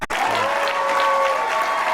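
Big round of applause from the crowd for both teams after a girls' high school lacrosse championship final, steady sustained clapping filling the venue for the full stretch after a brief knock at the start.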